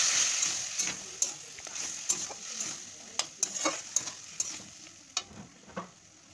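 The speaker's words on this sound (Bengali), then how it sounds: "মশলার সাথে এটা ভালো করে কষবো।" Fried potato pieces stirred with spice paste in a pan while making a masala mushroom dish, giving a steady close sizzle broken by repeated sharp scrapes and clacks of the spoon.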